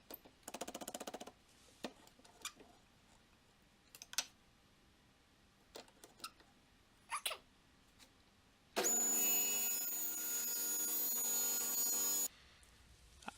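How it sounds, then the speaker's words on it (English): A saw cuts a wooden center piece to thickness for a curved base, one loud sustained cutting burst of several seconds after scattered workshop clicks and knocks in a quiet room. "The center piece can be cut into the appropriate thickness now."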